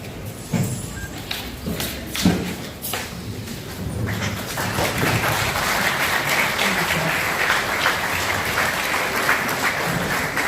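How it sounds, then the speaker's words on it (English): Audience applause at the launch of an emergency medical services program, a sustained round of clapping that swells after a few seconds and carries on steadily. "A round of applause"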